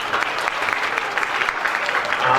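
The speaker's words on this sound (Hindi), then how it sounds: "तो एक जोरदार ताली तो होनी चाहिए।" Brief burst of audience applause at a closing and honoring ceremony for a Jain education camp in Maujpur, Delhi, dense clapping at steady level throughout.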